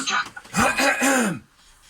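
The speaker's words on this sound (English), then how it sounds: "just go off, clear your throat, have like a lemon juice and come back, like this" A man clears his throat in a few rough, gravelly rasps, close and loud, ending in a short sliding vocal grunt before the sound cuts off into quiet.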